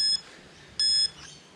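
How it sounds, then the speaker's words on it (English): Electronic workout timer beeping at the start of a kids' exercise session, two short high-pitched beeps separated by a pause of about half a second, clear and close over a quiet room. "I'll just start the timer."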